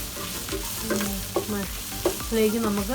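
Spices and green chillies sautéing in a pan for Kerala-style chicken curry, with steady frying sizzle under repeated scraping stirs and short spoon clatters, close and fairly loud; a voice briefly speaks.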